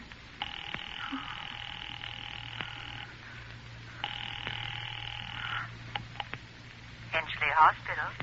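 A telephone rings twice in long double-burst rings on a line placed to Henchley Hospital in an old radio suspense drama, with a low hum beneath and a brief voice near the end.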